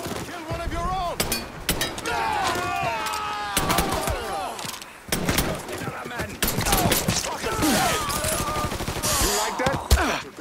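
Rapid automatic gunfire in Mafia III, bursts of shots crackling loudly and continuously over the full stretch, with shouting voices and game dialogue mixed in among the shots.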